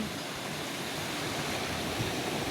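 Hot spring water at a riverside in Caibiran, Biliran bubbling as though boiling, a dense, continuous rushing and gurgling hiss that stays loud and even throughout with no voices.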